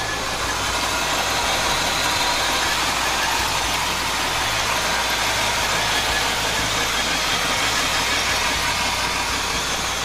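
A 1972 Oldsmobile Cutlass Sports Coupe engine idles steadily and evenly up close, a constant low rumble with no voices.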